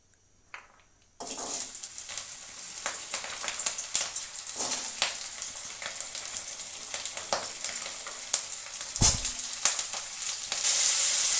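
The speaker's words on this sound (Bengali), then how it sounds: "এবার আমি আলুগুলো কড়াইতে তেল দিয়ে আলুগুলো ভেজে নেব" Potatoes frying in oil in a wok: after a quiet start, a sudden loud sizzle sets in and carries on steadily, with crackles, pops and occasional stirring scrapes, and no voices.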